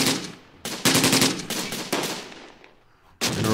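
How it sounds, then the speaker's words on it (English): Machine gun fire from an Sd.Kfz. vehicle in the Close Combat World War II strategy game: several loud, rapid bursts separated by short pauses, heard alone without talk. "And we're opening fire here. Firing SDKFZ."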